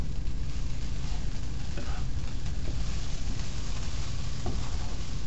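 Mozzarella cheese is mixed into sizzling food in a hot pan, a constant close frying hiss with occasional stirring scrapes and soft clicks running through it.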